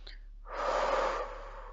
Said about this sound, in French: j'expire de nouveau.